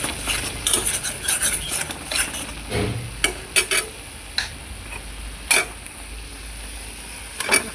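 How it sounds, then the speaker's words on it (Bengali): A spoon stirs and scrapes spices through hot oil in a pan for egg curry. Irregular soft clicks and scrapes come close by, with no talking. "তেলে মশলাগুলি আমি দিয়ে দিই, নাড়াচাড়া করে নিচ্ছি।"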